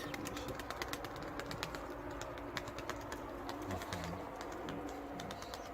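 White-crested pigeons coo in low, soft bursts that blend with rapid dry clicking and fluttering close by, in a busy, continuous pigeon loft soundscape.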